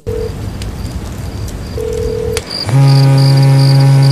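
Two short electronic beeps a second or so apart, then a loud, steady buzzing telephone tone that holds to the end.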